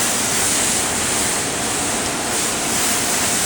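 At a self-service car wash, a spot-free rinse wand sprays a car in a steady, loud, broadband hiss of water that continues unbroken and close, with no talking.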